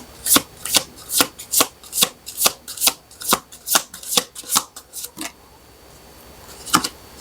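Tarot cards are shuffled in a steady rhythm of about fifteen crisp, close riffles and slaps over five seconds, then a pause and one final card snap.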